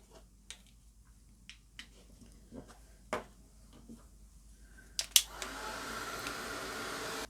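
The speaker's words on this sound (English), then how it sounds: "either pop this aside to dry or again get a heat tool and just dry it" A heat tool blows steadily on pigment ink during card making, starting partway through as a close, sustained whooshing hiss after a few scattered light clicks and taps.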